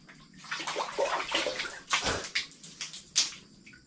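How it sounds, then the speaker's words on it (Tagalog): Cold water splashes and pours in a tiled bathroom, with uneven bursts of sloshing and a few sharp splashy hits, close by. "unang buhos dito sa banyo"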